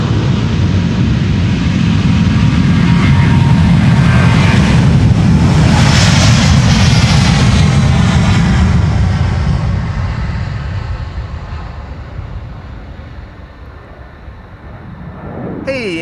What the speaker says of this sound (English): This is Delta Airlines Flight 161 to Minneapolis